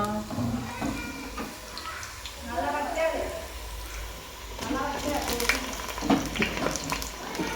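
Chicken frying in a pan, a soft hiss and sizzle with faint spattering that runs beneath people talking nearby.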